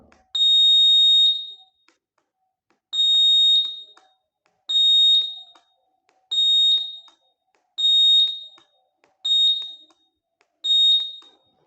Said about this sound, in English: the buzzer is also making sound